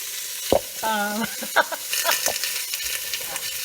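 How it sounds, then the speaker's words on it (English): Food sizzles and hisses in a frying pan while it is stirred and tossed, a steady crackle with a few clinks of a utensil. "you hear the sizzle? It's for Rizzle. And that's cooking up good."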